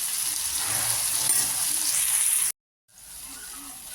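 Pabda fish frying in a pan with a steady, bright, close sizzle that cuts out for a moment and then resumes.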